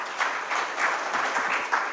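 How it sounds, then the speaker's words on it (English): Audience applause for a panel on addressing poverty in Nigeria, a steady, fairly close burst of many hands clapping with no break. "a round of applause for the panel"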